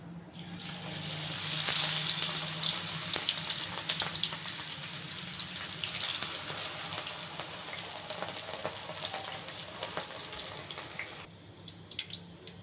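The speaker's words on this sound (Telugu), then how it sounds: "ఇలా ఫ్రై చేసుకుంటే సరిపోతుంది." Cabbage pieces deep-frying in hot oil for crispy cabbage, a steady loud crackling sizzle that stays even throughout, with a few faint stirring clinks before the frying dies down slightly near the end.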